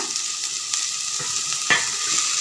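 Chopped tomatoes hiss and sizzle in a hot frying pan over ginger-garlic paste, a steady bright frying sizzle throughout with a sharper burst as more drops in, no voices.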